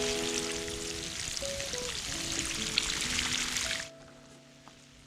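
Water poured from a watering can onto tomato plants in a hot-region vegetable garden, a steady broadband splashing stream running close and loud for about four seconds before cutting off, leaving a quiet tail.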